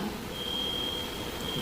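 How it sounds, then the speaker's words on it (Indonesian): Steady electronic alarm tone sounding inside a church during a sermon, a single sustained high-pitched beep held continuously under a low hum of room noise. "Ini bunyi alarm atau apa ya?"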